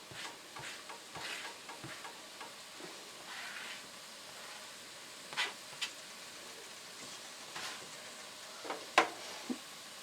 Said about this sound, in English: we're going to start out cooking the onions until they're good and soft